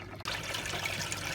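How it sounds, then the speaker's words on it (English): Dirty water from the first rinse of a Bosch WAE24162GB03 washing machine, run with a Henry vacuum cleaner filter inside, drains in a steady close trickling pour after a brief quiet start. "This is the water out of the first rinse."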